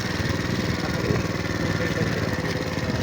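A motorcycle engine idles steadily and close by, a continuous low rumble with no clear revving, on a small bike without working lights.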